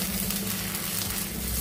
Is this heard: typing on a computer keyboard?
no